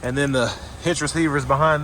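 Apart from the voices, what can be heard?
No everyday noise stands out behind the speech.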